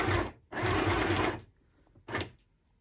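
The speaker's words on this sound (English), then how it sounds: "then put the feet back down on it, and then I sew it again" A sewing machine stitches a cotton handkerchief in two close, loud whirring bursts, a long run followed by a short one, with a quiet pause between and no voices.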